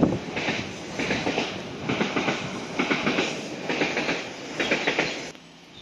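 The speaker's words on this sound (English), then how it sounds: "Here comes the train." A train passes Barnes No.1 level crossing in Greater London, wheels clattering in a steady rhythmic clickety-clack over rail joints, moderately close, then falling away abruptly at the end.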